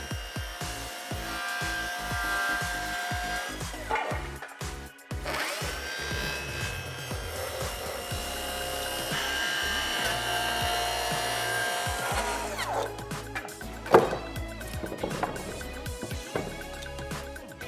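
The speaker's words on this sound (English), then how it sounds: "I designed a jig so anybody can use any old circular saw to make these compound angled cuts" A circular saw running along a fence jig makes compound angled cuts in wood, whirring and biting through the boards with several starts and stops and a sharp clack near the end; close and fairly loud, no talk.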